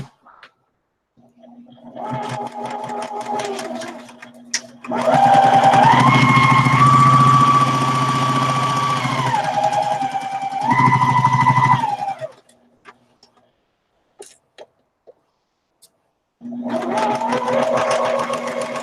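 A sewing machine stitching a quilt runs in several bursts, a steady whirring hum that starts, holds for a few seconds, pauses and resumes, with a brief gap of near silence between runs.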